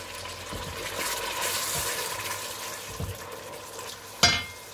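Red beans and tomato precook in a pan for an African-style sautéed bean dish, giving a low, steady sizzle with soft stirring scrapes and a short sharp clatter near the end.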